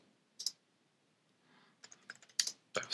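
Short bursts of typing on a computer keyboard while entering text into an InDesign text box, crisp clustered clicks close up between quiet pauses, with no talking.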